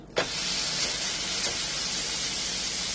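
A burger patty hits the hot grill and breaks into a loud, steady sizzle, a broad hiss holding on continuously without pause and with no voices.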